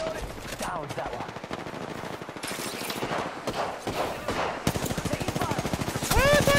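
Video game gunfire rattles in fast automatic bursts, some near and sharp, others lighter, spread across several volleys amid busy game effects.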